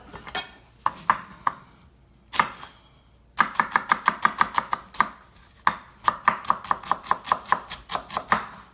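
A knife chops a shallot on a cutting board for a house vinaigrette, with a few scattered cuts followed by fast, even rhythmic bursts of chopping, close and crisp, with no talk.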